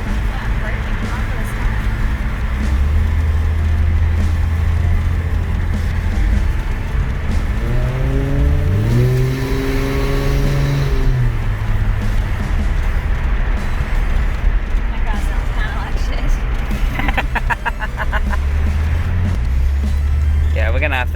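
A rebuilt L67 engine with an X-Force exhaust runs in at a steady idle, with one clear rise and fall in revs around the middle, close and loud under people talking.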